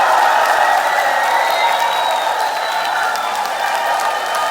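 Lecture audience applauding and cheering in a hall at a network-marketing company event, a steady dense wash of clapping and crowd noise that holds loud and even throughout.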